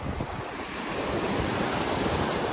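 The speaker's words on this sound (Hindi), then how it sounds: "दोस्तों, लहरों के साथ चलने का अपना ही मज़ा है।" Ocean waves roll and wash onto the beach at Skegness, a steady broadband surf roar with wind buffeting the microphone, continuous and fairly loud throughout.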